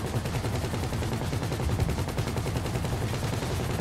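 Rapid automatic gunfire in the video game GTA 5, a dense, continuous rattle of shots at an even fast rhythm, loud and close, with no talking.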